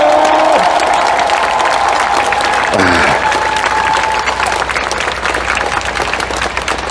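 A large political party convention crowd breaks into loud, continuous applause and cheering to congratulate newly elected supreme council members, a dense steady roar of clapping with voices mixed in.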